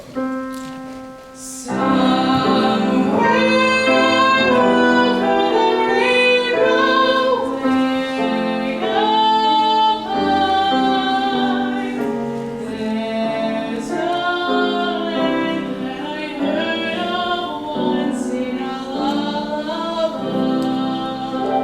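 A woman sings the slow, sweeping opening melody of a song with wide leaps, backed by soft orchestral accompaniment, sustained and expressive.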